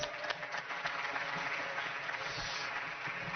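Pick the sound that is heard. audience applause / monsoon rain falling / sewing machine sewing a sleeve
audience applause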